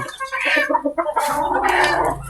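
A hen clucks in a quick series of short, close clucks, then lets out a longer, drawn-out squawking call.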